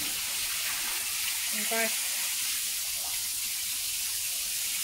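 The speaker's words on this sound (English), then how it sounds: "through the hose, this is just pond water, I'm just pushing it down." Pond water pushed by a pump through a hose, a steady broad rushing flow that fills the whole clip at a constant level while a voice speaks briefly over it.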